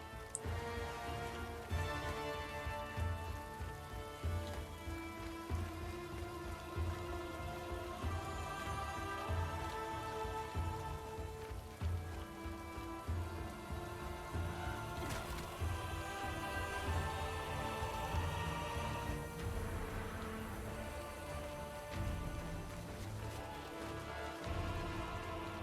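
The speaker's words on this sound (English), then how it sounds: "The rain has a cool effect." Steady rainfall in the video game Chrono Odyssey, a continuous dense hiss of drops that runs evenly throughout, layered with background game ambience and no speech.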